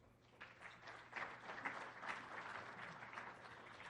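An audience at a Hall of Fame banquet applauds, a dense wash of clapping heard from a short distance that swells and holds steady for a few seconds.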